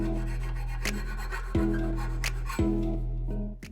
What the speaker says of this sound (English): grab a file, just clean up this edge, it'll make it easier for the pipe to slide over